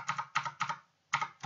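Computer keyboard typing while Python SQL code is written, with close, clicky bursts of keystrokes broken by a short pause.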